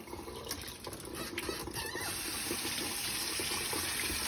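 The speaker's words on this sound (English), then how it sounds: "let's turn the water up a little bit." A kitchen faucet runs steadily into a sink for hand washing, a soft continuous splashing hiss that grows a little fuller partway through.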